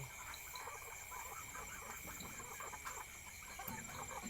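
Laying hens of three foreign breeds, including Plymouth Rock, cluck and murmur steadily amid a busy outdoor backdrop, with a few soft squawks scattered through the few seconds.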